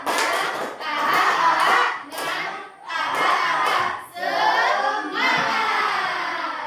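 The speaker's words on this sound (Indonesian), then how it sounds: "kita tepuk semangat dulu ya. Tepuk semangat" Classroom of junior high students doing a rhythmic spirit clap chant in bursts of loud group clapping and shouting, several surges with brief pauses between them, close and filling the room.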